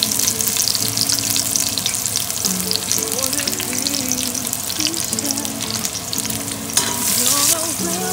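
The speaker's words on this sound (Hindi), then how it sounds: "गर्म हो गया तो हम इसमें डालेंगे पहले गार्लिक और साथ में एक चिकन क्यूब।" Garlic and a chicken stock cube fry in hot oil in a pan, giving a loud, continuous sizzle with stirring scrapes throughout and a brief burst of running water partway through.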